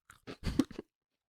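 Crunching bites on hard Zoo biscuits topped with sweet icing, a few close, dry crackling crunches in quick succession, quiet and heard alone without talk.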